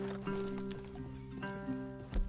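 Horses in the Red Dead Redemption 2 video game clop and shuffle faintly under a steady tonal game soundscape, with a brief louder thump near the end.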